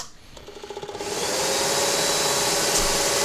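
Dust extractor hooked up at a woodcarving bench during love spoon carving, whining up from a soft pulsing start into a loud, steady rushing roar that continues to the end.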